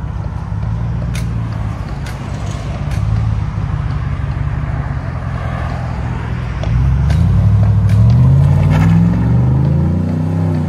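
Deep burbling exhaust from a 2024 Chevy Tahoe 5.3-liter V8 fitted with a Black Widow system, a steady low idle followed by a rising rev late on, loud and close.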